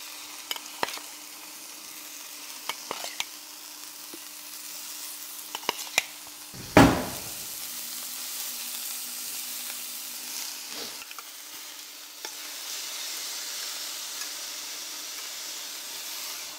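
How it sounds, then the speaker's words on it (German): A steady sizzle of shrimp frying in a hot pan, with a sharp burst of crackling midway and a few clicks and clatters of cookware. "wir haben unsere Garnelen angebraten"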